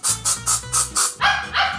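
A dog in an apartment building barks in a rapid series of seven loud, close barks with an even rhythm, the last two deeper and fuller, with no talking.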